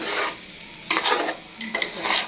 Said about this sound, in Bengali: পোলাও চালটা আমি সামান্য ঘি দিয়ে ভেজে নেব